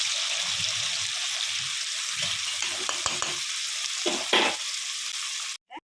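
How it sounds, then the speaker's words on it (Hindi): Potato pieces fry in hot oil in a pan for a mushroom curry, a continuous close crackling sizzle with a few stirring scrapes and clinks before the sound cuts off. "आलू को तेल में भाजी नवा तेल भाजी नवा"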